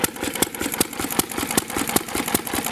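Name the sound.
McCormick Deering M tractor engine running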